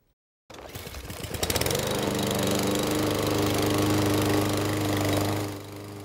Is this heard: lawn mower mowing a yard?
yes